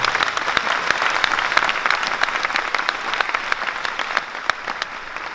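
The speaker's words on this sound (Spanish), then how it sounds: "Un aplauso fuerte para eso también." A church audience at a Catholic charismatic renewal gathering claps loudly, a dense sustained burst of applause that gradually thins toward the end.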